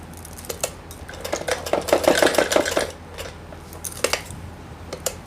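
A sewing machine runs a short burst of stitching along the waistband of a four-panel salwar, its rapid needle rattle rising for about a second and a half, framed by scattered taps and fabric handling close by.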